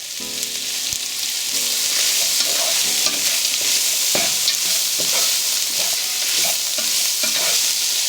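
Frozen peas are tipped into a hot frying pan while making pork fried rice, giving a continuous bright sizzle with repeated spatula scrapes and knocks as they are stirred around.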